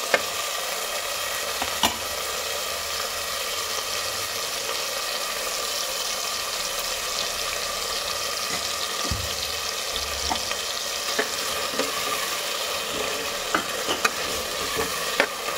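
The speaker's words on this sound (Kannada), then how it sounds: "ಟೊಮೊಟೊ ಎಲ್ಲ ನೀಟಾಗಿ ಫ್ರೈ ಆಗಿದೆ, ನೋಡ್ತಾ ಇರ್ಬೋದು." Salted tomatoes fry in a pan for a bottle gourd palya, a steady close sizzle broken by repeated scraping and tapping strokes of a stirring spoon throughout, with no speech.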